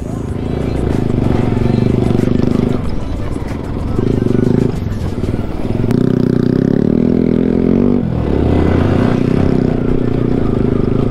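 Off-road motorcycle ride on rough terrain, engine droning loud and steady with surging bursts and clattering, continuing throughout under the rider's voices.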